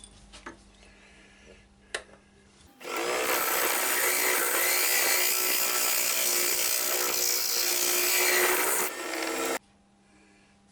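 A wood lathe turning an acorn-shaped bird box, a loud broad rasping whir as a tool cuts the spinning wood for several seconds, starting and stopping abruptly with quieter workshop sounds either side.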